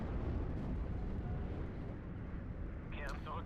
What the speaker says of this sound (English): So I will use my airstrike on them.